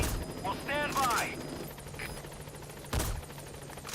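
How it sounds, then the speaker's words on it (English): In Metal Gear Solid V, a support helicopter arrives amid gunfire, with bursts of automatic shots and a steady rotor drone underneath, and a voice briefly speaking over the action. "Support helicopter has arrived."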